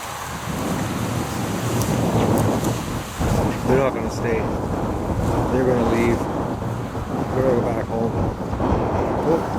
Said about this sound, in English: getting real windy here, guys.